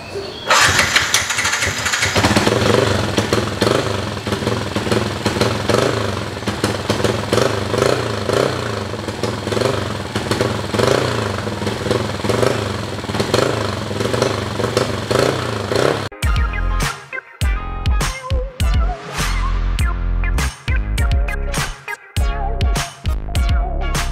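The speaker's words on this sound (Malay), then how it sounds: "jom kita try start motor ni" A Yamaha Y15ZR motorcycle, just fitted with a new gel battery, cranks and fires up, then settles into a loud, close, buzzing idle with uneven pops and sputters in the final seconds.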